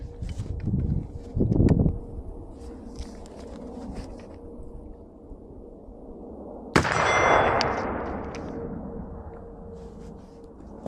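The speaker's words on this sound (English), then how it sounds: "So I have a single round in the mag, and we'll fire that." A single round is fired from a rifle with an FRT trigger outdoors, giving one sharp, loud shot about two-thirds of the way through after quiet handling noise, followed by a fading echo.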